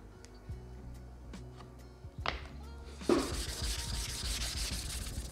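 A sharpening stone being flattened by rubbing over a grid, with soft taps early on and then steady close rasping and sanding that runs to the end.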